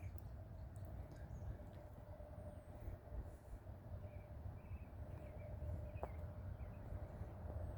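A train rumbles past steadily at a distance in Thomasboro, a continuous low roar of wheels and cars with a faint horn-like tone running through it, no voices heard.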